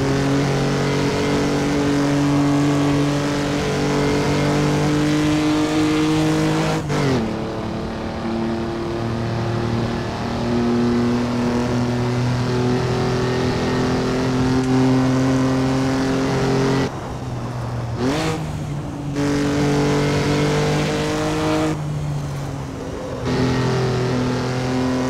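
A Jaguar C-Type races in Assetto Corsa, its engine droning loud and steady as it climbs and holds through the gears, broken by a few sharp pops and gear-change dips, with no talking.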